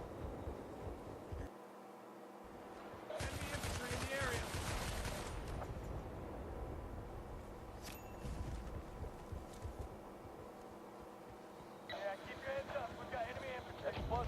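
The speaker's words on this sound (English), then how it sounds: "Hopping on that heavy MG is a pretty good move." Heavy machine gun fire in a video game, heard as a loud burst of dense rapid shots over a few seconds and a shorter flurry near the end, under a steady commentary voice.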